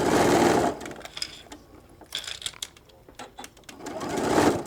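Bursts of sewing machine stitching across pleats on a shoulder bag: a loud run at the start, quieter intermittent stitches in the middle, then another strong run at the end.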